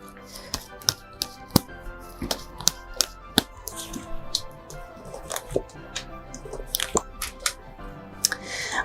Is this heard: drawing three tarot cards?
yes